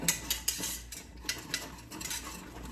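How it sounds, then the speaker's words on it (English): A spoon stirs a pot of grits with quick, faint scraping and clinking strokes in a steady rhythm, close by with no talking. "give this a nice stir"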